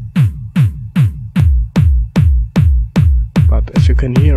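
Layered kick drum samples combined into one punchy electronic kick, repeating about ten times at a steady tempo, each hit loud with a deep low thump and a bright attack, extra tonal layers joining near the end.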